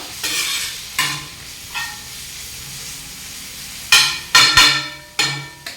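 Kothu parotta is chopped and stirred on a hot griddle with sharp metal clangs, loud scrapes and bursts of clatter, separated by pauses, over a low steady sizzle.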